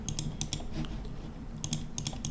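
Rapid bursts of computer keyboard typing, several quick clustered keystrokes at the start, a pause, then another flurry at the end, close and clear over a low steady hum.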